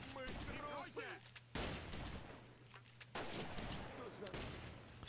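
Gunfire during a base attack in the video game В тылу врага 2 (Behind Enemy Lines 2): distant shots crack over a quiet battlefield bed, with two sharper bursts, and faint voices heard underneath.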